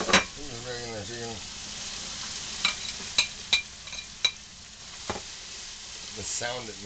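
Chicken and peppers sizzle and crackle in a pan, with a few sharp utensil clicks and brief voice-like tones at the start and end.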